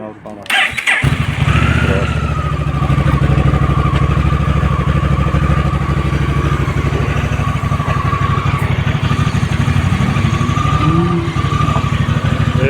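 A modern touring motorcycle engine catches with a brief cranking burst, then settles into a steady, loud, close idle with people talking underneath.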